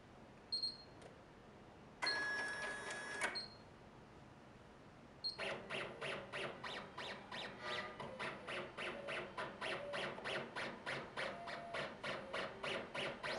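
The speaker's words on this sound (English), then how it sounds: "hit trace, again set up by the shortcuts that we did before we started this video, so that the machine will then perform a trace" HappyJapan HCD3-1501 embroidery machine tracing a design: beeps and a short whirring burst, then a long run of steady, evenly spaced mechanical ticks from its moving frame, close and clear.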